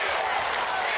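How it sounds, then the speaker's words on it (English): Basketball crowd at the Mississippi Coliseum during a girls' 5A state championship game, a broad steady roar of cheering and applause from the stands, dense and sustained throughout. "Crowd on their feet now at the Mississippi Coliseum."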